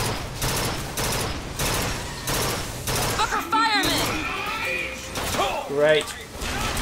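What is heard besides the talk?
gunfire from the burst gun in the video game Bioshock Infinite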